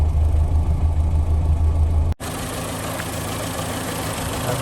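A warm 1968 Morris Traveller with a small A-series engine and pancake air filter idles up close, a steady chuntering hum that is briefly cut off before carrying on.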